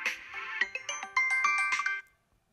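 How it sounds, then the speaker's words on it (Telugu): A mobile phone ringtone plays for an incoming call, a bright repeating electronic melody of quick notes that rings for about two seconds and then cuts off, close and clear with no talking over it. "మళ్ళా ఫోన్ చేస్తుండు."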